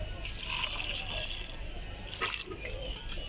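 Water poured into a cooking pot over ginger and spices, a soft continuous gush and splash with a few faint clinks near the end, fairly close.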